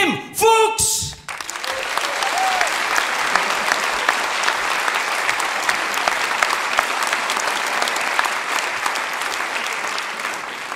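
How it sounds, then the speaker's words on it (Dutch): Loud, sustained audience applause at a Dutch Indo-themed theatre comedy show, steady dense clapping for about nine seconds after a brief spoken introduction at the start. "Mag ik u vragen voor een daverend applaus voor oom Pim Fuchs?"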